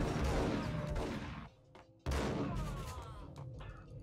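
Gunfire in the video game Max Payne comes in rapid, loud bursts, breaking off for a moment into near quiet before a fresh volley of shots resumes.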